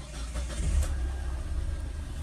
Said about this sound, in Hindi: गाड़ी को मैं स्टार्ट कर दूंगा